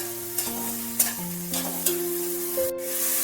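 Carrots and beans stirred and fried in a pan, giving a continuous close sizzle broken by several spatula scrapes and knocks against the pan, with no talking.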